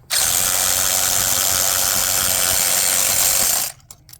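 A socket ratchet on a Ford Mustang 3.7 V6 loosens a spark plug with a loud, steady stream of rapid clicking that lasts several seconds and then stops abruptly, with no voices.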